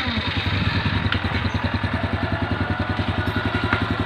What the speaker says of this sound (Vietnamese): Giờ nổ máy cho anh em nghe nha.